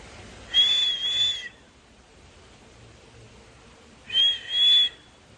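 Two rising, warbling whistled phrases in imitation of a koel's call, moderately loud over faint outdoor hiss, with a long quiet gap between them.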